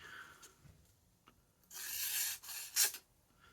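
A knife blade being sharpened on a 1000 grit stone, giving a few quiet scraping strokes: short soft rubs early on, then a longer rasping pass and one sharp final stroke, close by with no talking.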